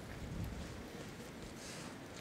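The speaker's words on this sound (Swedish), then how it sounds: "Marcus, det blåser på i Göteborg och har så gjort då sedan lunchtid ungefär" Strong storm wind buffets the microphone outdoors in Gothenburg, a steady low rumbling roar with gusty surges and no voices.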